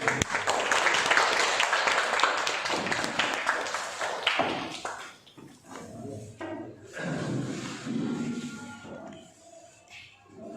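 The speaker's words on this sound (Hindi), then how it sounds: "तालियां हो गई।" Audience applause at a seminar on Muslim women's role in India's independence, a loud burst of clapping for the first few seconds that fades into scattered claps and room noise.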